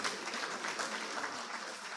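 Conference audience at a social work gathering in Africa claps steadily, a dense wash of many hands at moderate distance, even and sustained with no voices over it.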